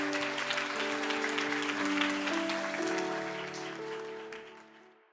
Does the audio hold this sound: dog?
no